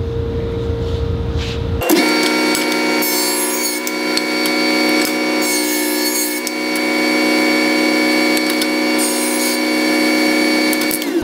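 A jointer planing a wooden board starts abruptly after a brief low rumble, then holds a loud, steady high-pitched cutter whine with faint rubbing texture for the rest of the stretch, with no voices.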